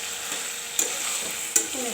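Vegetables with pumpkin and dried fish cakes sautéed in a pan, a soft continuous sizzle with two sharp scraping clicks of a spatula against the pan as they are stirred.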